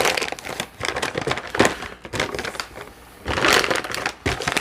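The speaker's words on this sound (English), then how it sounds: "I always have problems sealing Ziplocs up" A plastic Ziploc bag crinkles and rustles loudly at close range in irregular bursts as it is handled and pressed shut, with brief quieter pauses between the crackling.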